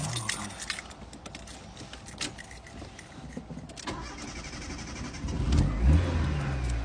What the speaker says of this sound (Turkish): anahtarı ver arabayı çalıştırayım.